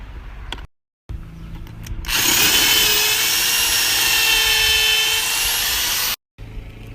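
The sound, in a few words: drilling holes with a 5/32 drill bit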